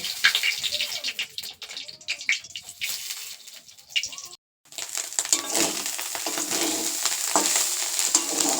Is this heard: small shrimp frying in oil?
yes